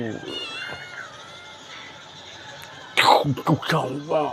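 A high, wavering meow that sounds like a voice imitating a cat, followed by a few short, sharper vocal bursts nearby.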